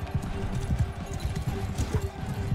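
Horse hooves clip-clopping in Mount & Blade II: Bannerlord with a guns and powder mod, a quick steady galloping rhythm close up, with someone talking over it.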